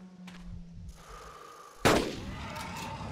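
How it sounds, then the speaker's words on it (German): A rifle shot cracks loudly at a dinosaur in the game Carnivores: Dinosaur Hunter Reborn, a single sharp blast partway through that rings out into a decaying tail over quiet ambient game sound. "Ich würde gerne von unten, von der Seite in den Bauch schießen."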